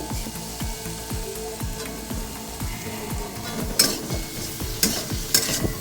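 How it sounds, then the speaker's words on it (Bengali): Capsicum frying lightly in a pan with spices for an aloo paneer curry makes a soft sizzle, with frequent clicks and scrapes of a spatula stirring and a few sharper taps; no talk. "এটাকে দিয়েও কিন্তু হালকাভাবে ভেজে নিতে হবে"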